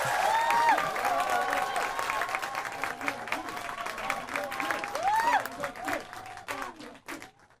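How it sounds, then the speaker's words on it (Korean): An audience at a May memorial concert applauds to welcome a historian onto the stage, with clapping and some cheering under musical tones and a voice, the applause fading out toward the end. "자, 큰 박수로 맞이해 주시기 바라겠습니다."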